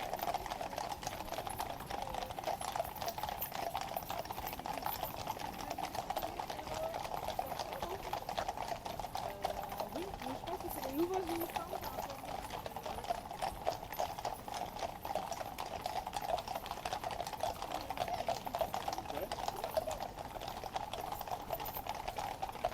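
Steady clip-clop of a police horse's hooves on a road continues throughout, set against constant outdoor background noise and faint crowd murmur.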